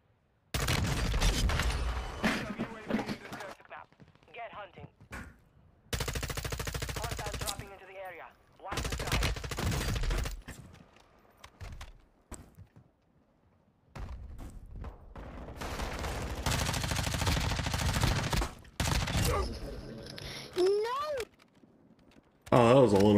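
M4 rifle gunfire in a video game, coming in repeated loud automatic bursts separated by quieter gaps, with someone talking over parts of the action.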